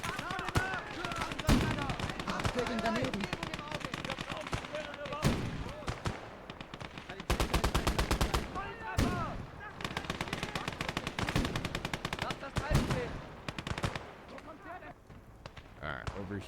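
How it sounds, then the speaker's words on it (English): Dense, sustained gunfire from soldiers in a modded Conqueror's Blade video game battle, loud bursts and rapid volleys rolling almost continuously with brief lulls, voices and battle noise mixed underneath. "Both of them up and firing at this guy"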